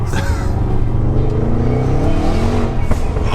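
An Audi RS6 launches hard with all four wheels spinning, its engine roaring loudly up through the revs under rising tones, close and sustained, with a brief scrabble of tyres.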